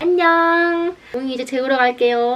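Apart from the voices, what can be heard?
No everyday noises stand out.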